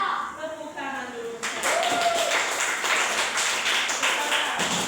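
Schoolchildren in a classroom clap their hands during a civics lesson. A voice speaks briefly first, then a bright, dense burst of clapping takes over and continues steadily to the end.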